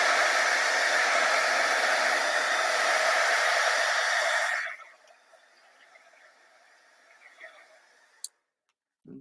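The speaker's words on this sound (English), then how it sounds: "I'm going to grab my heat gun and just dry it off a" A heat gun blows loudly and steadily while drying a stamped tropical-leaf card project, then cuts off after about five seconds. Faint clicks and light handling noises follow.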